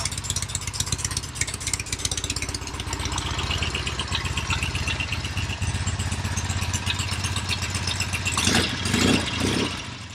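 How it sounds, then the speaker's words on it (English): An old Norton motorcycle engine idles steadily nearby with a rapid, even mechanical beat and light rattle, swelling briefly near the end as the revs rise and fall. "Got a nice quiet motor. Very good motor."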